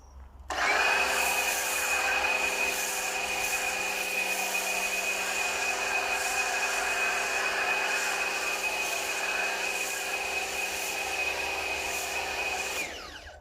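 Cheap budget MJJC Pro V2 2.0 snow foam lance spraying thick foam, a steady close hiss and pressure-washer whine running for about twelve seconds, starting and stopping abruptly.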